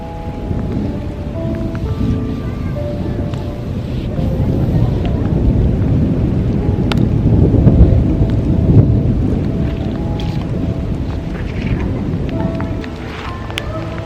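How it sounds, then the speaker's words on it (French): A thunderstorm pours over a park outdoors, with dense, steady rain hissing close by, deep thunder swelling and fading, and wind buffeting the microphone. "Il va y avoir un sale orage."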